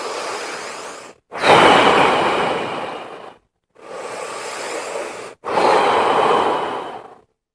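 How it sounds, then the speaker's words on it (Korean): A person breathes deeply at close range, pushing each breath fully out and then drawing air fully in. Four long, loud, airy breaths make two complete cycles, with short silent gaps between them and no speech. "속에 있는 거 다 내뿜고 들여 마시기 이런 숨을 쉬어야 되지 돼요"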